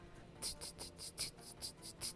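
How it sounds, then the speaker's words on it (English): Crickets chirp in a steady, rhythmic pulse of high trills, moderately close against a quiet night background. "crickets chirping"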